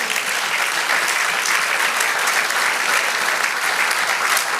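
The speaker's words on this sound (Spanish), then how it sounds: "Dale otro aplauso al Señor." Dense, steady applause from a church congregation during a sermon, filling the space evenly for several seconds with no talk over it.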